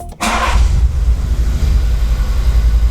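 A Volkswagen group car engine starts after a repair: a short cranking burst, then a steady, close, low idle rumble that keeps running with no voices.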